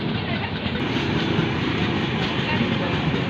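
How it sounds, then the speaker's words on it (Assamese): A train rumbles past close by, a loud steady roar of wheels and carriages that fills the whole clip. "এয়া এখন ট্ৰেইন পাৰ হৈছে"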